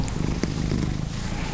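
A cat purring up close while being held during quiet weekend reading, a steady low rumbling purr that continues evenly throughout.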